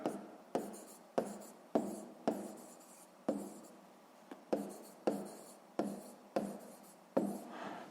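Someone writes by hand in a notebook during a sixth-grade maths exercise: about a dozen quick, scratchy pen strokes in a regular rhythm, close and quiet, with short pauses between.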